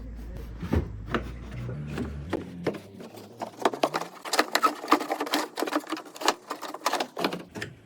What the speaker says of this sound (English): So now you should just be able to pull this carpet out.